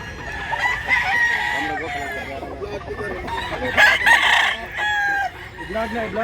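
A rooster crows loudly and repeatedly, with clucking from other fowl mixed in and some background voices, in rural Cebu, Philippines.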